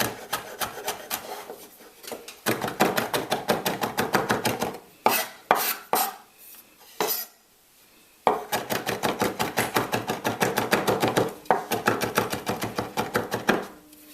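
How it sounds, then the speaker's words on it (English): A knife finely chops seeded hot pepper on a wooden board in rapid, steady bursts of crisp taps, pausing briefly midway before the fast rhythmic chopping resumes. "So all we're going to do is give that a very fine chop."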